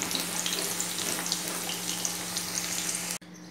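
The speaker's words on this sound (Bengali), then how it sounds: "আগে আলুগুলো ভেজে নেব। মাংসের জন্য আলুগুলো আগে ভেজে নিই।" Potato pieces frying in hot oil for a mutton dish give a loud, dense, steady sizzling hiss that cuts off abruptly near the end, leaving a quieter background, no talk.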